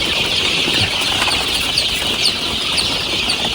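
Young Andijan black chicks, about 25 days old, on a poultry farm, peeping and chirping continuously in a close, busy flock, with occasional soft rustling and wing flutters.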